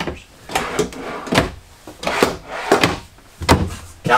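Kitchen drawers in a 2021 Grand Design Transcend 240ML travel trailer slide open and shut several times in quick succession, each movement ending in a close, hollow thunk with a sliding rumble.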